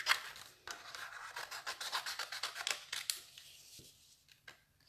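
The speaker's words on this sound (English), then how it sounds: "I just grab my snips and I'm just going to cut these out quickly" Hand snips cut paper shapes out quickly, leaving a small white border, producing a close run of soft rhythmic crunching snips that thin out toward the end.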